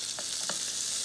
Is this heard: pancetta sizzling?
yes